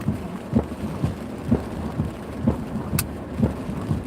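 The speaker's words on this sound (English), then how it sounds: "Trying to wait out the rain." Steady rain falls in Miami, a continuous wash of drops with low rumbles pulsing about once a second, and a brief sharp crack near the end.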